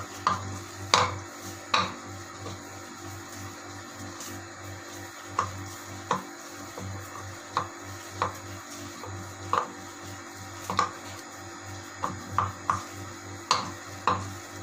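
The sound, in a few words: mixing chapli kabab mixture with spices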